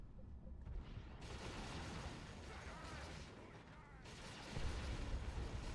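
Grenade explosions and gunfire rumble through a Warhammer strategy video game battle in dense, continuous bursts, with a heavier boom swelling near the end.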